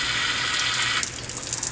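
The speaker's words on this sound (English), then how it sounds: "Just flush and clear our test cocks." Water gushes steadily from the test cocks of a FEBCO LF860 reduced pressure backflow assembly being flushed, a loud continuous hiss that turns more splashy and uneven near the end.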